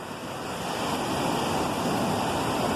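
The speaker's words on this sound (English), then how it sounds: "I'm waiting for some big waves to come flying in." Big ocean waves surge and crash onto the shore at CasaBlanca, Venezuela, a steady broadband roar that swells louder over a few seconds, with wind buffeting the microphone and no voices.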